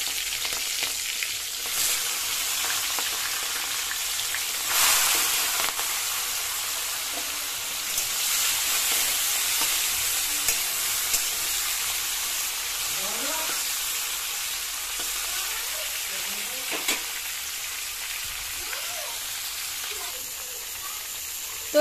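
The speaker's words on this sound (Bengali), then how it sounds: "তেল কিন্তু গরম হয়ে গিয়েছে, এখন আমি দিয়ে দিচ্ছি চিংড়ি মাছগুলো" Prawns sizzle in hot mustard oil in a wok, a continuous crackling fry with bursts of spitting and occasional stirring, fairly close and moderately loud.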